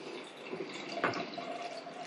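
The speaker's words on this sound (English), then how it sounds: "I'm going to pour a wee touch to see what it's like" Cloudy home-brewed beer, a peach-flavoured 3.8% Pinter ale, being poured in a small splash into a glass, producing a brief liquid gush and fizz near the microphone with no talk.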